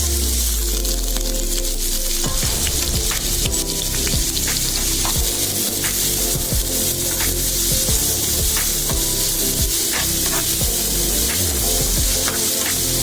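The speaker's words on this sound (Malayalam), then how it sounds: "വെളിച്ചെണ്ണ നന്നായി ചൂടായതിനു ശേഷം അരിഞ്ഞു വെച്ചിരിക്കുന്ന ഉള്ളി നമ്മളതിൽ ചേർക്കുന്നു" Chopped onions fry in hot coconut oil in a pan, a dense, loud, steady sizzle and crackle with scattered pops running unbroken throughout, close up and with no talking.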